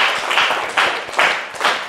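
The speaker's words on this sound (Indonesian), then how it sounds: "Tepuk tangan untuk Nikola." A classroom of students claps together in steady applause for about two seconds, dense and fairly loud with small swells in intensity.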